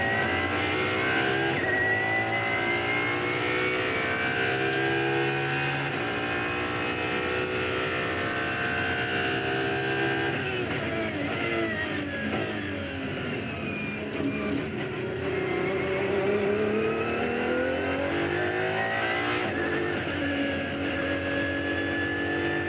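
A hypercar's engine drives past and revs hard, its loud harmonic tone climbing, dipping and sweeping through gear changes, with a brief high squeal partway through and the roar steady throughout.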